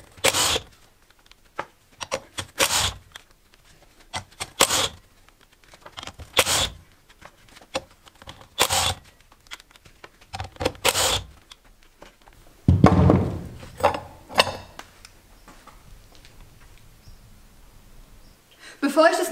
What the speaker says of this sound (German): Dazu schraubt man die 6 Muttern mit einer 14er Nuss ab.